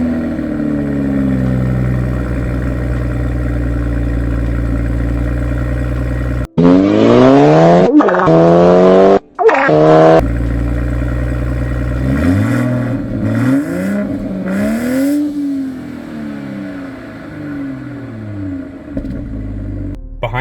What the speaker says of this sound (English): I'm also gonna play some startup clips and some revving, which we did in my friend's Supra